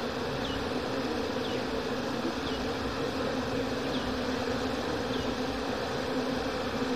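A honey bee colony hums around its hive, a dense continuous buzzing drone that stays steady and close, with no voices.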